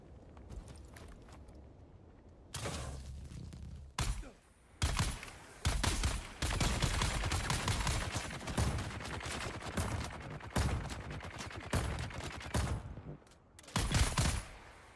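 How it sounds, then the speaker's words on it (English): Gunfire and grenade blasts in the survival game Dune: Awakening, starting after a quieter opening and continuing as loud, dense volleys of shots and bursts through the rest of the clip. "Somebody's throwing grenades."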